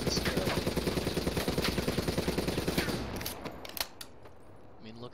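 An ICR assault rifle in Black Ops III fires a long, fast, evenly spaced automatic burst for about three seconds, then stops, leaving a few sharp clicks and mechanical weapon sounds.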